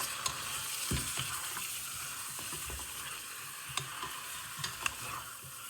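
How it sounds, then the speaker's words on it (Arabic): Dried lime, onion, bay leaf and cinnamon stirred in a pot for Palestinian maqluba, a steady close sizzle broken by repeated spoon scrapes and light clinks against the metal. "نضلنا نقلب شوية حتى إيش تاخذ هيك اللون التحمير الخفيفة هاي"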